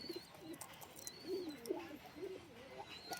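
A breeding pair of pigeons coos softly and close by, in repeated low throaty phrases against a quiet background.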